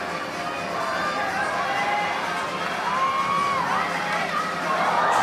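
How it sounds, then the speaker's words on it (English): A crowd at a men's lead climbing final in Seoul reacts with rising murmurs, shouts and gasps, a dense sustained wash of many voices heard from within the venue, swelling slightly toward the end. "Crowd gasping along."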